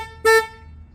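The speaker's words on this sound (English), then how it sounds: "press the horn so you can hear what it sounds like" A single short honk from the horn of a Kia Forte with a flat, buzzy tone, sounded once close by and alone before fading into quiet.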